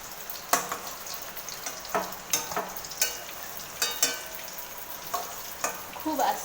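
Soft, slit pointed gourd is lifted from a sizzling pan, with a utensil scraping and tapping against the pan about once a second over a constant frying hiss.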